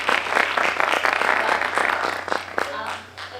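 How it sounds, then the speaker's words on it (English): Applause from the audience at a university talk event for international visitors, a steady wash of clapping lasting about three seconds before fading out, with a voice partly over it. "A big applause for Maite, please."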